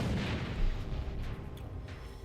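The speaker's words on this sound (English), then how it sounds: "Grenade!" A grenade blast in a video game rumbles heavily from the start, a dense low boom that decays slowly with scattered debris-like crackle over the remaining moments.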